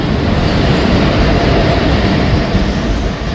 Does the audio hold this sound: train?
yes